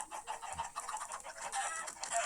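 Chickens cluck and squawk in quick, overlapping bursts that sound slightly synthetic, Minecraft sound effects from a chicken farm, loud and continuous with no talking.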